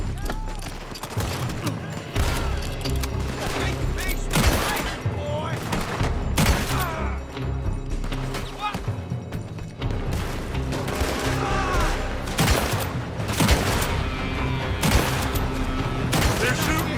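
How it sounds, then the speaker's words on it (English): Rapid, loud gunfire crackles through a shootout in the video game Red Dead Redemption, with dense overlapping volleys and booms sustained throughout, while voices shout over the shooting. "They're shooting from that building."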